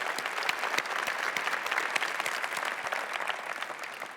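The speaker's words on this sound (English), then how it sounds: "So please give a round of applause for Databricks, Deloitte Digital, Interworks, Starburst, and Kairos." Keynote conference audience giving a sustained round of applause for sponsors, many hands clapping in a continuous even wash, moderately distant and steady.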